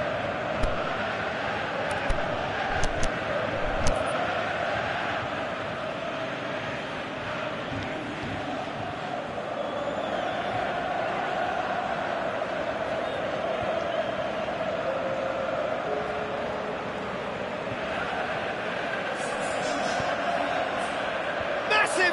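A stadium crowd in a PS4 football video game keeps up a steady, broad roar for the whole stretch, with a commentator talking over it.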